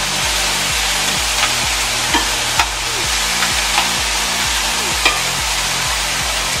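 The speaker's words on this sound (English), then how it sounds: "Let that sizzle there for a little bit" Peri peri chicken pieces fry in a hot pan with a steady, close sizzle, broken by occasional small pops and crackles throughout.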